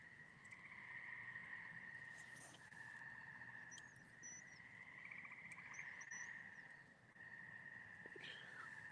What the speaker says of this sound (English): these frogs are going nuts tonight.